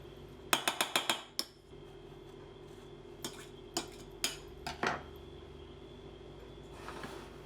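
Whisk or spoon clinking against a bowl while custard mix with vanilla seeds and pod is stirred, a quick run of sharp metallic taps followed by a few scattered knocks, close and clear with no talk.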